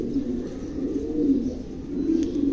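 Black show king pigeon cooing in a steady low, throaty murmur that rises and falls over a couple of seconds, close by with faint background hiss and no talk.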